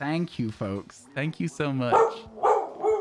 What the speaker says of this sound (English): That's my dog. That's my actual dog.